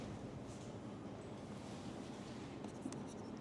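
Marker or chalk writing out an equation during a surface tension lecture: soft continuous scratching at low level, steady throughout, with a couple of faint taps near the end and no talking.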